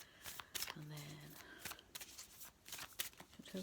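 A Moonology oracle card deck is shuffled close up during a card reading, quiet riffling and sliding card sounds in short bursts with soft background noise.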